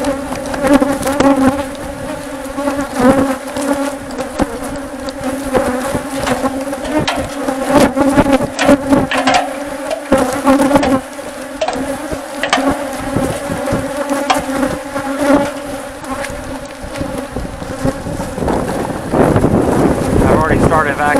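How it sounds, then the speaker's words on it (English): An aggressive swarm of bees droning loudly around a hive during a bee removal in Ennis, Texas, a dense continuous buzz with wind buffeting the microphone and a rising roar near the end. "Walking up to the hive. It is absolutely pure aggression."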